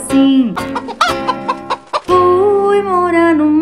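A cartoon hen clucks in a Brazilian children's song, with loud, close, sung clucks and squawks in a rhythmic run, and the last one stretched out, over a musical backing.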